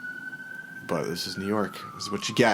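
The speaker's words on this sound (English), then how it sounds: "There's a bunch of sirens going off." An emergency vehicle siren wails on a New York street, a faint steady tone running beneath close conversation as people talk over it.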